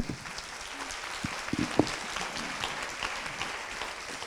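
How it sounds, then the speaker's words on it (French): Conference audience at a colloquium on young carers applauding, a soft, fairly distant patter of many hands with a few nearer claps standing out. "Je propose d'applaudir une dernière fois."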